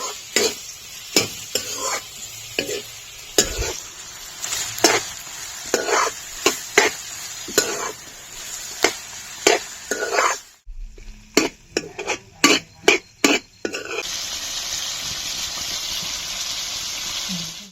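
Goat meat frying and being stirred over a fire in a pan, with a steady loud sizzle broken by repeated sharp scraping strokes of the spatula, a short pause, then more quick stirs and a strong continuous sizzle.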